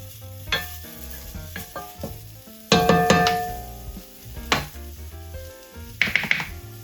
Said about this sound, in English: by cooking the seasonings first in a hot pan, it brings out the natural oils